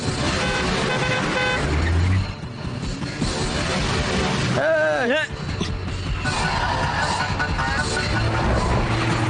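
A car horn honks in a busy street scene, tonal blasts rising above steady traffic and music, with a voice talking over the mix.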